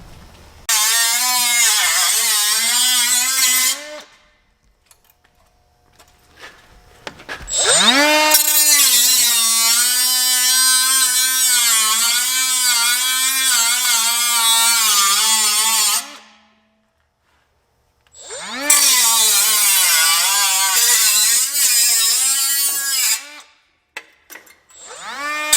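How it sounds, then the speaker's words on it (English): Cut-off wheel cutting during a budget brake caliper install on a BMW E36, heard as a loud, sustained high-pitched grinding whine in three long bursts separated by short pauses, with the pitch wavering slightly as the wheel loads and frees up. "hit the cut wheel."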